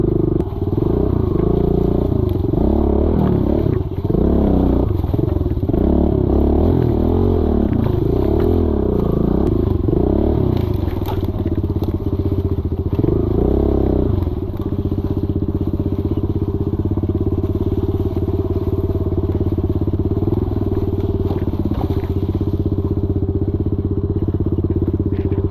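A Stark VARG MX 1.2 electric dirt bike ridden off-road, giving a continuous close electric motor whine with rising and falling pitch, plus drivetrain clatter and rough terrain noise throughout.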